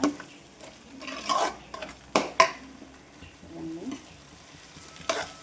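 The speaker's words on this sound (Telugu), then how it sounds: "అన్నీ వేసేసి ఈ మసాలాని చక్కగా వేయించుకుంటానమాట" Spice masala for a fish curry frying in a pan, with a soft sizzle under scattered metallic clanks and scrapes of stirring, a few louder knocks spaced apart, no talking.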